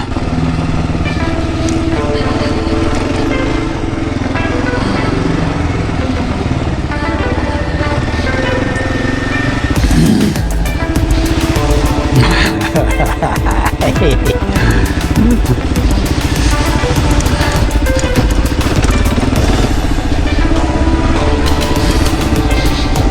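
A Kawasaki KLR650 motorcycle rides a dirt trail, its engine droning loud and close throughout, with rougher, revving bursts and bumps in the second half.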